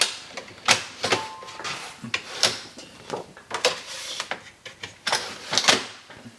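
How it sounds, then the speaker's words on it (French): Photo-style decal transfer paper fed into a printer, giving a series of sharp mechanical clacks and whirring feed pulses in an irregular rhythm, close and fairly loud with no voices. "Donc je vais le charger dans l'imprimante"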